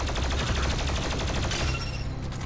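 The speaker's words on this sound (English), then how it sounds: "you just kind of finish him off with the precision bolt and the plasma gun here" Rapid, continuous energy-weapon fire from the plasma gun and precision bolt in Doom Eternal, a dense stuttering stream of shots, loud and close throughout, thinning slightly at the end.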